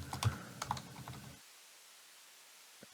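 Quick bursts of keystrokes on a computer keyboard while entering Python code, clustered in the first second and a half and then stopping, leaving near silence with a couple of faint clicks at the end.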